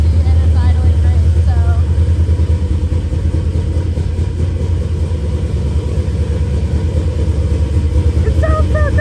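Engine idling steadily just after starting, a continuous loud low rumble held close by, with faint clicks and a voice briefly audible near the end.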